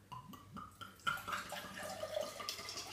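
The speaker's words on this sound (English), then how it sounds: "first of all, we pour the rum." White rum poured from a bottle into a glass for a pineapple juice mixed drink, a short close liquid trickle with a few soft drips before a steadier splashing stream.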